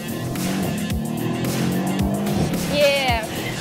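A Mercedes E 63 AMG accelerating hard from a standstill toward 60 mph, with a loud, steady engine roar and rumble, rhythmic low thumps suggesting gear shifts, and a brief rising squeal or whoop near the end.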